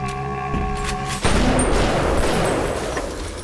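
Gunfire in the video game Bioshock: a sudden loud burst of shots cuts in over game music and rumbles on as a dense, sustained barrage.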